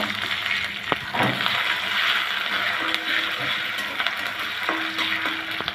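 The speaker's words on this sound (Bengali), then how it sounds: "পেঁয়াজটা ভালো করে নেড়ে নেব আর দিয়ে দেবো একটা টেবিল পরিমাণ আদা রসুন বাটা পেস্ট দিয়ে ভালো করে নেড়ে সেড়ে" Sliced onion frying in oil with ginger-garlic paste as a cooking utensil stirs it, giving a constant hissing sizzle broken by scraping, clicking strokes, close up and with no voices.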